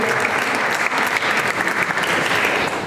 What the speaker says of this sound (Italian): Un applauso per l'assessora